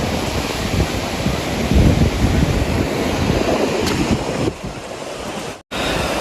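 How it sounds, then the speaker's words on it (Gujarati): Sea surf rolling onto the shore beside the Dwarka temple in Gujarat, a steady broadband wash with strong wind buffeting the microphone, swelling around the second mark and dropping out briefly near the end. "અને આ છે મિત્રો દરિયો."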